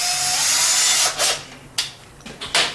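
A power drill runs for about a second, drilling a hole in a Dodge Ram 1500 transmission part, then stops, followed by a few short clicks and scraping handling noises nearby.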